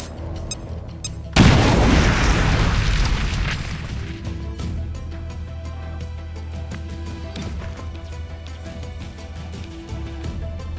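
A grenade explodes in XCOM: Chimera Squad, one loud deep boom followed by a long rumbling decay and lingering debris under steady game ambience.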